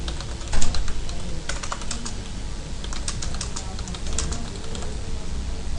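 Steady, rapid typing on a computer keyboard as a short description is entered, with dense clicks and a few louder keystrokes, heard close and alone.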